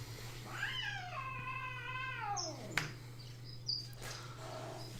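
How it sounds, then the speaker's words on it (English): A house cat meows and caterwauls in drawn-out, wavering yowls while squaring off with a dog, followed by a sharp thump and quieter scuffling, all over a steady low hum. "My cat and my dog are having a fight."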